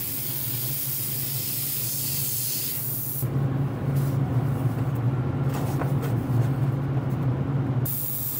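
An airbrush sprays paint onto a model ship, a steady close hiss that strengthens and brightens after a few seconds, then continues evenly without pauses or voices.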